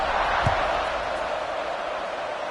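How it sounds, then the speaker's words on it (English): A broad, steady crowd roar fills a stadium in the College Football 26 video game, a continuous wash of noise with a brief thump near the start. "this crowd is buzzing after that last score"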